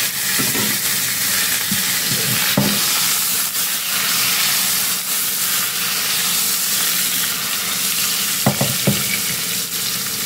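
Sankara fish fry in oil in a pan with a loud, steady hiss and sizzle, close up, broken by a few scraping knocks from a utensil and no talking.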